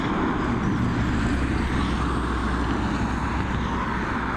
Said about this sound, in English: Next departure should be the A330